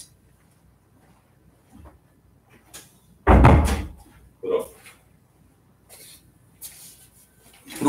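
A door is pushed shut with a single loud close thud after a stretch of near silence, followed by a softer knock and a few faint rattles and small handling sounds.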